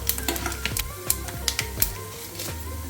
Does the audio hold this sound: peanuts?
yes